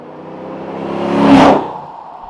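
A vehicle with a 3.5-inch X-Force exhaust passes close by, its engine and exhaust rumbling louder as it approaches, peaking, then fading away within a couple of seconds.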